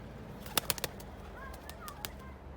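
Soft cooing from a domestic pigeon, a smoky white-tailed male, sounds close by in a coop, mixed with a few sharp flaps and clicks, against quiet background noise and no talking.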